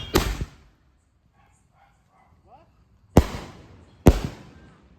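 Firecrackers burst during Diwali night celebrations, three sharp loud bangs: one at the start, then two more close together after a quiet gap filled with faint distant sounds.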